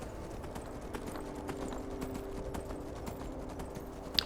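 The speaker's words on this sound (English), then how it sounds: "we'll use our horse for the next journey" Steady clip-clop of horse hooves trotting at an even rhythm in the video game Skyrim Anniversary Edition, close and moderately loud, with a faint background hum.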